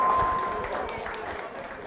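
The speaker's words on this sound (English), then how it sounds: "Give a big round of applause to yourself." An audience at a seminar talk on emotional management gives a brief, faint round of applause. The scattered clapping fades slightly over under two seconds.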